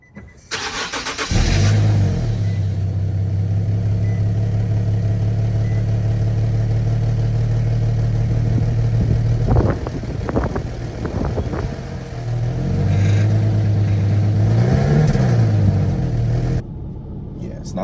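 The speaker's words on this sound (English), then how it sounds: "I'm gonna play the cold start for you right now." Infiniti G37 with a new Y-pipe exhaust doing a cold start: the engine cranks and catches, then settles into a loud, steady, rumbling idle, with revs rising and falling, close up.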